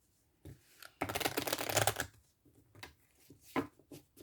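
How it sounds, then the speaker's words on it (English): A deck of oracle cards being shuffled by hand, a brief riffle at first, then a dense burst of card flutter for about a second, followed by a few quieter taps and shuffles, close and fairly soft. "Just shuffle a little bit."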